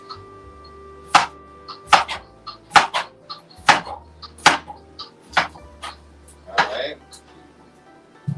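A knife chops through potatoes on a cutting board in a series of sharp, distinct thuds, about eight cuts in an irregular rhythm, close and clear.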